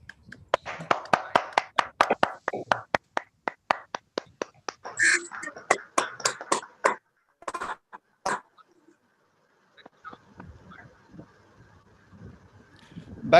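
Virtual clapping at an online mentorship achievement day ceremony comes as a quick run of sharp, evenly spaced claps, louder in bursts, then stops. Soft background noise follows.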